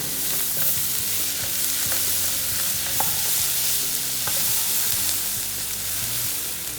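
Finely chopped green chillies frying in a pan for chicken dopyaza, a loud, continuous close-up sizzle with steady crackle and occasional scraping stirs underneath.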